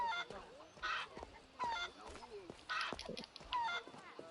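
A chicken clucks in the video game Assassin's Creed Liberation Remastered, with several short squawking bursts in a loose rhythm, fairly close and moderately loud.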